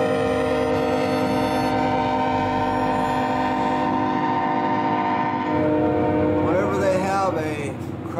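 A freight train's horn blares at a desert railroad crossing, a long sustained multi-tone chord held loud and steady for several seconds before fading, with rail rumble underneath.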